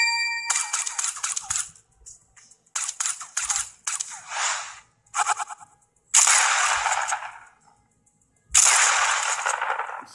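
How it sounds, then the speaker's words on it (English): Dual pistols in Fortnite fire sharp, bright gunshots, first as a quick scattered string of cracks, then as two separate louder blasts, each trailing a ringing tail. "That's the dual pistol,"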